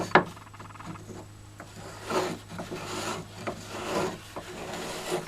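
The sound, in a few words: sanding and bevelling a wooden keg cap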